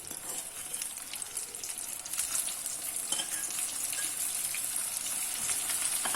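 Baby corn deep frying in hot oil, put back in for a second crisping fry for a Kerala-style chilli baby corn, produces continuous dense sizzling and bubbling that grows slightly louder partway through.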